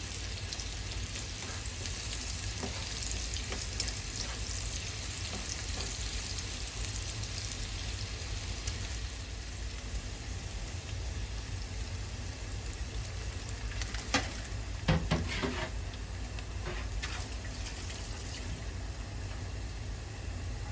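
Steady sizzling of olive oil in a pan while cooking Japanese-style fried rice with egg and carrot, a continuous close hiss with a few clattering stirs near the middle.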